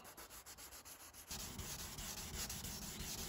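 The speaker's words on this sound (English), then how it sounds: "we're just going to wet sand this and try and get all these runs out of the paint" Wet sanding of painted panel on a Ford Fiesta ST150 with 600 grit sandpaper on a sponge, a close, rhythmic rubbing that speeds into continuous scrubbing strokes.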